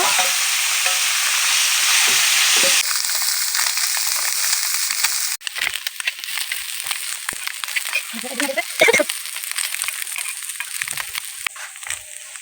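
Small fish fry in a pan on a kitchen stove with a loud, steady hiss of bubbling oil. After a few seconds, scraping stirs and clattering turns break through the sizzle.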